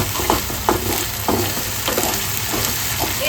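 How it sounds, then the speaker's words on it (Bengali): Ginger garlic paste frying with onions in a pan for Bengali-style doi chicken, a steady close sizzle broken by regular scraping strokes of stirring, about five or six in a few seconds, with no voices. "আমি আদা রসুন বাটাটা পেঁয়াজের সাথে ভালো করে কষিয়ে নেব"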